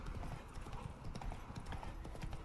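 Horse hooves clip-clop steadily in The Witcher 3, a dense, continuous rhythm of close hoofbeats with a faint whinny mixed in, no talk.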